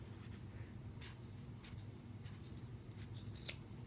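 Scissors cutting through a rolled-up sock for a fabric pumpkin craft, faint quick snips repeating a few times over low background hum.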